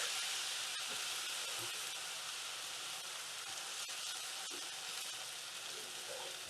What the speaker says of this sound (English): We're going to slowly add a little bit of milk in and stir that in